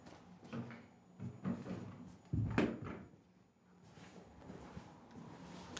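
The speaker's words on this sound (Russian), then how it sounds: "только двери закрой" A door is shut indoors with a soft rattle and then a dull thud, followed by a faint scrape, all fairly quiet in a calm room.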